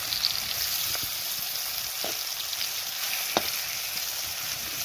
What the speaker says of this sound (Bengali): দেখো ভাজাটা বসিয়ে দিয়েছি আমি